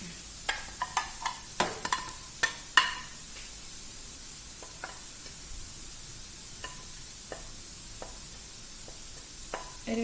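Onions are being sautéed in a pan: a soft sizzle sits under sharp, scattered scrapes and clacks from a stirring spoon, clustered early and then spaced out over ten seconds.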